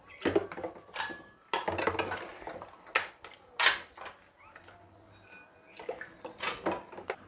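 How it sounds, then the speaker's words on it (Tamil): Plastic lids are dropped one after another into a bowl of cleaning solution, making a series of close clattering knocks and light splashes at irregular intervals, separated by brief quiet gaps. "நம்ம வச்சுருக்க மூடி எல்லாத்தையும் போட்டுக்கணும்"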